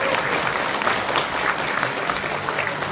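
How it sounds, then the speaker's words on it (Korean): Hearty audience applause welcoming political speakers onto a stage at a party talk event, dense sustained clapping from a large crowd, loud and even throughout. "힘찬 박수로 환영해 주시기 바랍니다"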